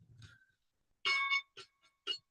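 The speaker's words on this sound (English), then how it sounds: "And there's the bell." The stock market opening bell rings in a few short bright clangs, each followed by a brief gap, heard clearly at moderate level after a faint murmur.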